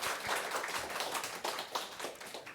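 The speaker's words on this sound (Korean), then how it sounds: "우리 건춘하 권사님 몇 달 만에 교회 오셨는데 우리 박수로 환영하겠습니다" A church congregation claps to welcome a member back during a Sunday service, giving a moderate, fairly quiet run of hand claps with a few sharper taps standing out, and no voices heard.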